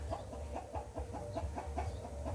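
A chicken clucking at a rural home kitchen, rhythmic repeated clucks at a steady pace, close and moderately loud over a low constant background hum.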